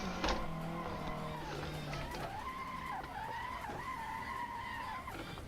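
A car in the Assetto Corsa racing game skids with rising and falling tire squeal over steady engine drone, the screech wavering through several slides before fading.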